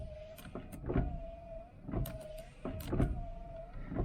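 Electric radiator fans running on a 1978 El Camino SS with a new aluminum radiator give a steady motor whine that surges in repeated, evenly spaced pulses, close and moderately loud.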